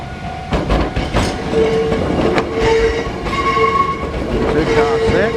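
A small old two-car train, dating back to the 1930s, passes near Hakone in Japan. It gives a steady rumbling roll with clicking over the rails, a brief horn-like tone and squealing metallic whines, all loud and continuous throughout.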